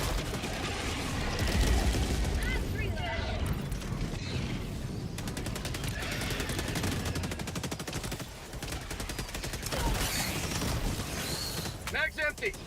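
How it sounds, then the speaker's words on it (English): Plasma grenade launcher firing in the video game Helldivers 2 on a high-difficulty bug mission: dense bursts of weapon discharges and mechanical clatter continue throughout, with a voice talking over the action. "It's like a plasma grenade launcher more than anything."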